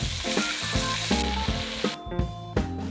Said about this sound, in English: Firstly, sear your meat with a little bit of cooking oil, salt, and pepper.